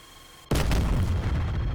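A sudden, heavy explosion at a SAM site in the DCS F-16C flight simulator, a sharp boom followed by a loud, sustained rumbling roar.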